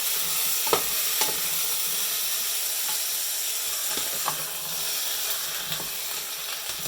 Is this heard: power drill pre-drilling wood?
no